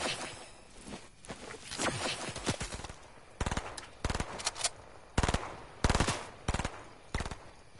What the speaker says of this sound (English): He's definitely shooting at you.